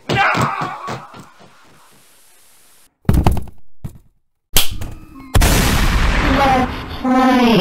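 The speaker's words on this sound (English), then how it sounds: "It was a shotgun!" Shotgun blasts in the video game Baldi's Basics, a few sharp, loud booms separated by silences, the final one followed by a sustained burst of noisy game sound.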